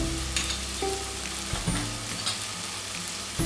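Soft tomatoes and ginger-garlic paste fry in a pan for vegetable pulao, with a low steady sizzle and a few scrapes and knocks of a spoon stirring, close and fairly quiet, with no voices.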